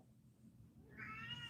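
A pet cat lets out a single short, faint meow near the end, following a quiet stretch of room tone.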